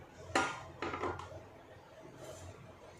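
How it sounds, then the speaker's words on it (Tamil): A frying pan set down on a home stovetop before shallow-frying marinated fish: a sharp metallic clank, then a couple of softer scraping knocks, fairly close and quiet, with faint room noise between. "பேன் வச்சுட்டேன்."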